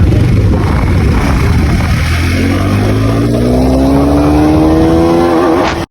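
A 390 motorcycle at full speed, a loud, steady engine roar that climbs in pitch as it accelerates, close and without talk.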